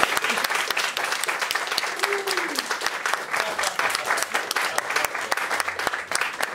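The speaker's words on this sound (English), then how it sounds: "One more big round of applause" A crowd at a Brazilian jiu-jitsu match gives a big round of applause after the bout, loud, dense clapping with scattered sharp claps and a brief voice or whistle in the middle.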